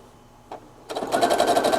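A sewing machine back stitches through Minky blanket fabric in a brief burst after a single click, a close, rapid rhythmic needle chatter that starts abruptly and continues to the end.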